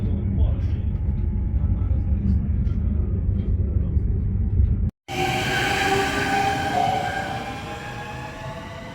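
A train heading to Ormož, Slovenia, rumbles steadily along the tracks, a low heavy roar that cuts out briefly before resuming with brighter, rattling wheel noise.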